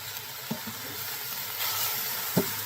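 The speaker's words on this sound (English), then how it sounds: "The meat is going to start to brown." Beef sizzles and browns in an Instant Pot, giving a steady close frying hiss broken by a couple of soft clicks and pops, with no talking.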